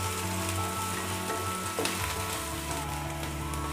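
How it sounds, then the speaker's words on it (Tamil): Finely chopped onion fries in hot oil in a kadai for a Tamil egg noodle dish, giving a dense, continuous sizzle that stays close and loud throughout. "வெங்காயம் நல்லா வதங்கணும்."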